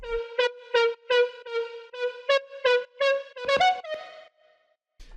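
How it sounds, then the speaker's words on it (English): A bright synth lead drenched in Native Instruments Raum reverb plays a run of short, evenly rhythmic notes, then a longer note whose reverb tail fades out into near silence. "the reverb on the lead sounds like this."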